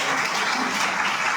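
An audience at a product training event in Kolkata claps in a brief, dense burst of applause with no voices over it.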